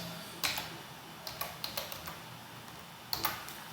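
Keys clack on a computer keyboard in short, irregular bursts, with single taps and quick clusters of strokes, quiet and close with no talking.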